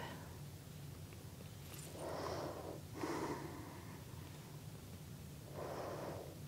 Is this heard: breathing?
yes